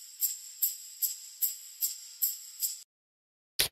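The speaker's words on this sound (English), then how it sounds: "So what I did is I recorded tambourine instead." A tambourine treated with reverb and a low-cut EQ rings out in seven evenly spaced shakes, bright and jingly like sleigh bells. Silence follows, then one final short hit.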